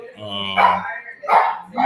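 Dogs barking in a few sharp yelps and bow-wows over a short span, fairly close, with a voice talking over the start.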